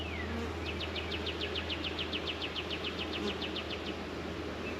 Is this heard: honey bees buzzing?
yes